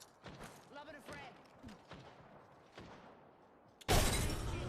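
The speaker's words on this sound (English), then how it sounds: "Lobbing a frag." A frag grenade lobbed in the Apex Legends-style shooter while a voice talks, followed near the end by a sudden loud explosion with a sustained rumbling, crackling tail.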